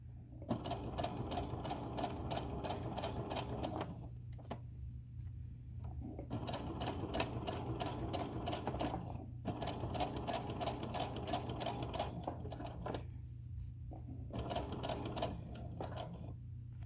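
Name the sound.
sewing machine stitching a tote bag seam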